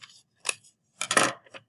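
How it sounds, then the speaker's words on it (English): Scissors cutting out a paper leaf shape close up, a few short crisp snips and a longer slicing cut, quiet and isolated, with no speech. "So I'm going to cut this out so I can show you guys for our big leaf"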